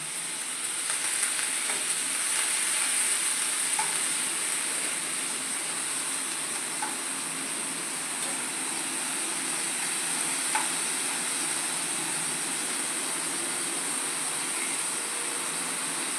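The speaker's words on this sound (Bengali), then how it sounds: "বিটের রস শুদ্ধ বিটটা আমি গরম তেলে ঢেলে দিয়েছি" Raw ground beet paste sizzles in hot oil as a steady, fairly loud hiss that holds evenly throughout, with only a few faint ticks and no voices.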